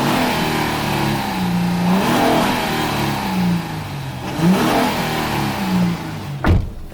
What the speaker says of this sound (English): Get inside here and rev the engine for you.